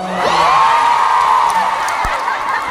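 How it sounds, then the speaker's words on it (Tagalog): A live audience at a motivational event cheers and whoops loudly, a swelling roar of shouting voices with scattered claps, rising quickly and then holding before easing slightly. "palakpak na may kasamang hiyawan!"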